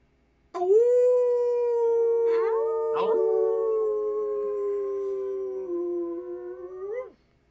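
A single long, loud howl rising at the start and holding steady for several seconds, with brief yips breaking in midway, ending abruptly.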